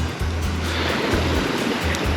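Sea waves wash ashore at high tide on a beach at Koh Larn island near Pattaya, a loud continuous rushing surf with wind buffeting the microphone in short low thumps.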